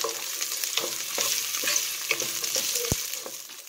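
Garlic sautés in a pan with a steady, close sizzle and crackle, with light scraping and stirring throughout.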